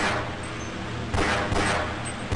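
Rapid gunfire from a weapon in the video game Half-Life, a steady rattling fusillade with louder bursts punching through near the middle and at the end, close and dense throughout.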